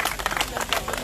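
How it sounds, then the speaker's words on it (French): A crowd bursts into brief, loud, dense clapping and cheering for an ambassador at a gathering where a general speaks. "l'ambassadeur DIF que nous allons applaudir très fort"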